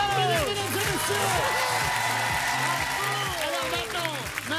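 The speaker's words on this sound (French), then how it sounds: "On peut les applaudir, mesdames et messieurs!" Warm audience applause on a French television show, a thick wash of clapping mixed with cheering, steady and close throughout, with voices and music running underneath.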